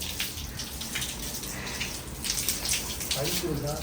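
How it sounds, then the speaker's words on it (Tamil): A baby's clothes are rinsed in water, swished and splashed in a basin or under a tap. Irregular close sloshing and dripping continue while a voice talks over them. "தண்ணியை போட்டு லைட்டாக அலசி விட்ருவோம்"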